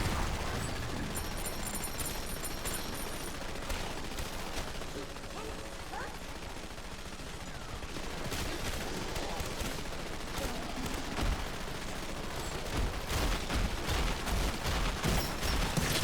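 Rapid video game gunfire in Dead Ops Arcade, dense continuous bursts of shots and explosions with mechanical clatter throughout, and a voice talking over the action.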